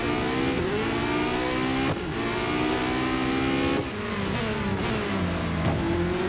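A Porsche 919 Hybrid race car engine in the video game Real Racing 3 revs hard and continuously, with sharp gear-shift dips about every two seconds before the pitch climbs again.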